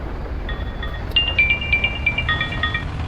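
A phone rings with a melodic ringtone. Short, bright electronic beeps repeat in a quick pattern over a low background hum, and no one speaks.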